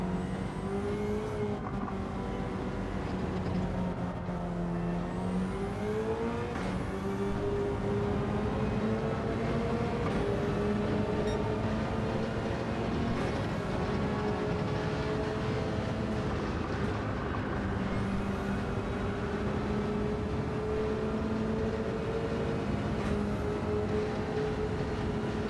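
A Subaru BRZ race car engine in a racing video game drones steadily and loudly throughout, its pitch rising and dropping in repeated sweeps as it revs and shifts.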